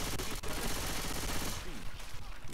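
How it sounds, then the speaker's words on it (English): Rapid gunfire from the Left 4 Dead 2 video game, a dense burst of repeated shots close and loud over the full stretch, with players' voices mixed in. "Let's keep shooting him."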